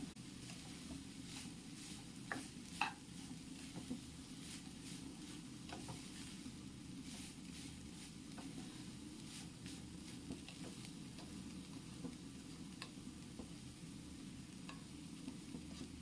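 Achinga payar (long beans) and carrot thoran being stirred in a pan, with a steady soft sizzle and scraping stir strokes throughout, close and fairly quiet, no talking.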